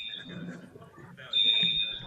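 A smoke or fire alarm beeps as a high, piercing steady tone that grows louder partway through, with people talking over it during a live sports show.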